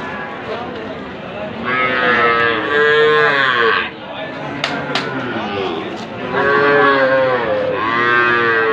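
A young calf about three months old moos loudly and repeatedly at a busy cattle market, long drawn-out calls close by, with people talking and bargaining around it.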